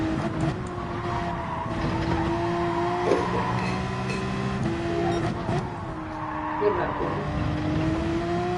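A race car in Gran Turismo 7 brakes late and slides through a corner, its engine droning with pitch drops and brief tire scrubs, while a voice speaks over the top.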